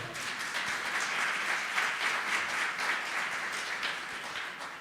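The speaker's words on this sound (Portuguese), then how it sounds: "Você pode aplaudir o Senhor?" Congregation applauding during a church sermon, a steady wash of many hands clapping at moderate volume, sustained evenly for several seconds without speech.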